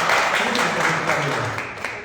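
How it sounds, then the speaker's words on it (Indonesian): A church congregation applauds during a worship service, a steady, soft wash of clapping from many hands, with a voice murmuring underneath. "Kita beri tepuk tangan buat Ibu."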